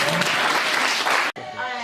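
A church congregation at a prophet's testimony service applauds in praise, loud and dense clapping that cuts off abruptly, followed by a brief quieter stretch with a voice over fading noise.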